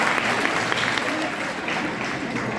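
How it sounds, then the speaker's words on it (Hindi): Audience applause at a live stand-up comedy show in India, a steady patter of clapping from a crowd filling the whole clip at moderate volume, with a faint murmur underneath. "तालियां बड़ी कम बजा रहे हो यार"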